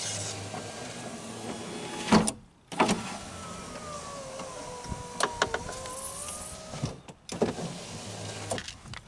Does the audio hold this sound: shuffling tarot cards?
no